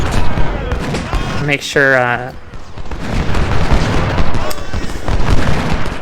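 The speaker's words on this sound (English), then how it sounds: "all my artillery is actually targeting their artillery" Artillery fire in the Civil War strategy game Ultimate General: Civil War, a dense, continuous rumble of cannon volleys and booms that carries on under and after a brief stretch of talk.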